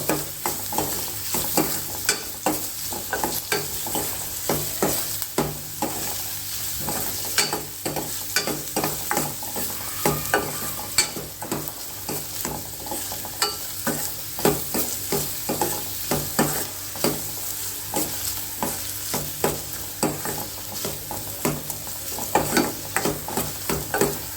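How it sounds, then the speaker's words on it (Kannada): Onions fry steadily in a pan, a continuous sizzle and crackle broken by frequent scraping stirs at an irregular, busy rhythm, close and fairly loud with no voices. "ಈರುಳ್ಳಿ ಚೆನ್ನಾಗಿ ಫ್ರೈ ಆಗಬೇಕು"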